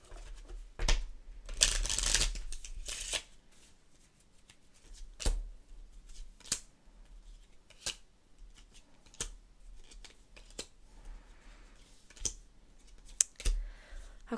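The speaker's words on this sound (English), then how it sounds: "I'm just shuffling the discard back into the deck" Playing cards shuffled close by during a candlelit card game in a power outage, a dense riffle burst followed by scattered snaps and taps with quiet gaps between.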